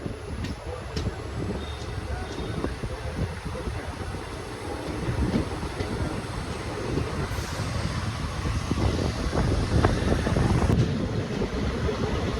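The Nilambur–Palakkad passenger train runs along the track near Melattur station with a continuous rolling rumble that builds slightly. Wind buffets the microphone throughout.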